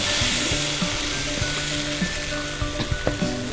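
Bread sizzles loudly in butter in an electric multi-purpose pan, a dense steady fry close up with faint scrapes and light taps, alone without talk.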